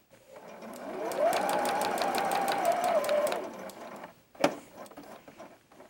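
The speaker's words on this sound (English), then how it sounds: "I'm going to sew, leave the needle into the seam that's pressed open" A sewing machine stitches a quilt block in a rapid steady whir for a few seconds, stops, then gives a short burst of clicks.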